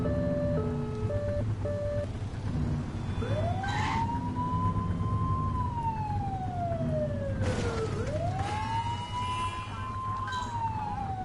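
A police car siren in a video game: two rising and slowly falling wails over a constant low engine hum, loud and close, with no talk.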